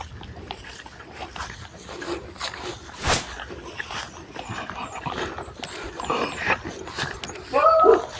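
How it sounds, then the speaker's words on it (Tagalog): A dog barks on a farm lot with mango trees beside a bungalow, a few short outdoor barks and whimpers at moderate distance amid ambient noise and people talking. "May aso."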